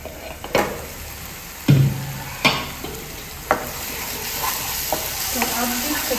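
Tomatoes stirred into a frying masala in a pan for a chicken dish, repeated spoon scrapes and knocks over a soft sizzle, close and intermittent.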